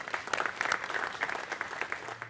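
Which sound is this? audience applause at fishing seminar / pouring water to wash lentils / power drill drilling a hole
audience applause at fishing seminar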